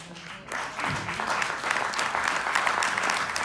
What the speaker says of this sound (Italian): Io vorrei che tutti potesse fare un applauso alla dottoressa.